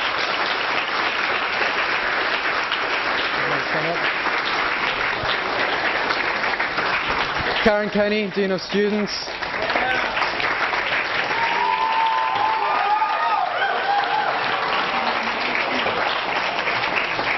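Sustained audience applause at a 2003 UC Berkeley debate on peace and justice, a dense steady clapping crowd throughout, with a voice speaking over it midway and cheering toward the end.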